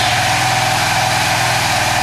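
Motorcycle engine with an AFR module fitted at the O2 sensor and a stock ECU, idling steadily with an even, close, continuous low throb and no revving.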